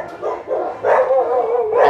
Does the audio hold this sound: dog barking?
yes